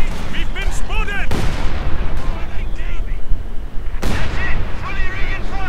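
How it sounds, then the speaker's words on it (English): Heavy mortar rounds going off in a World War II strategy video game match, heard as deep, booming impacts with rumbling tails, plus two sharp bursts that hit hard near the start and around four seconds. "Heavy mortar rounds going down."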